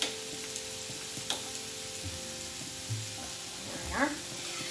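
A bechamel roux is stirred in a pan over very low heat as liquid is mixed in, giving faint soft scraping and gentle bubbling with a few quiet clinks.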